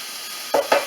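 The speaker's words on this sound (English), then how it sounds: "I like the onions sauteed a bit. Not quite caramelized, but softened." Onions softening in a hot pan for a cabbage and carrot diet soup, two quick bursts of stirring and sizzle over a faint steady background hiss.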